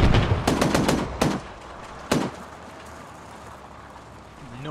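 Gunfire in the military shooter ARMA 3: a rapid burst of several loud automatic shots followed by a single sharp report, then a lingering rumbling tail under steady ambient noise.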